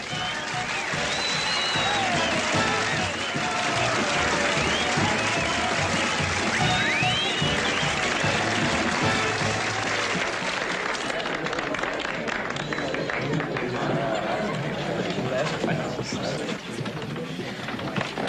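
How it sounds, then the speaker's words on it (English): Theatre audience applauding an actress's performance, a long, steady roar of clapping with crowd noise that holds loud throughout, with faint voices underneath. "it's so good to hear that applause"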